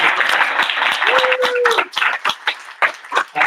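Audience applause at a New York Comic Con 2024 panel, a dense burst of clapping that thins into scattered individual claps with a brief whistle or cheer partway through.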